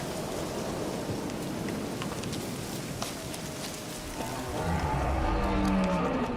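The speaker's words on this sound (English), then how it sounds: "Looks like rain." Steady rain patters on surfaces in the video game The Witcher 3, a dense continuous hiss that grows heavier toward the end.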